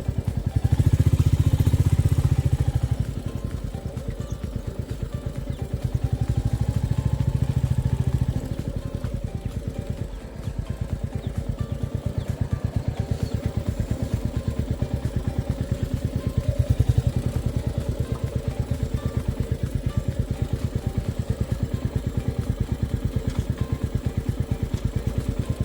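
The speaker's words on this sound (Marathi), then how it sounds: "चला आता इथे बाईक लावून ठेवू," A motorcycle idling on a rainy trip to Konkan as it is being parked, a steady low engine rumble throughout with slight changes in throttle and faint clatter.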